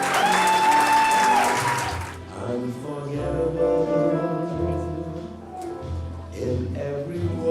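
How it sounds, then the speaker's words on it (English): Wedding guests applaud in a burst of dense clapping for about two seconds, then it gives way to music with singing that carries on through the rest. "Please give him a big round of applause"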